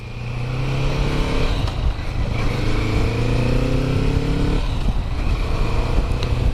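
A 2020 Kawasaki Vulcan 650S motorcycle accelerates up close, its engine note climbing steadily in pitch, easing back briefly, then rising again in a continuous loud drone.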